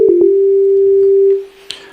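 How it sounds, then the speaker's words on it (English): An FM-X synthesizer's initialized voice plays a plain sine-wave tone from a single operator, a pure steady note after two quick blips, held about a second and then fading out. "which you can hear in this initialized voice is just a sine wave."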